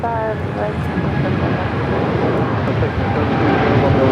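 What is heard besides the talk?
United Airlines Boeing 787-9 Dreamliner taking off at LAX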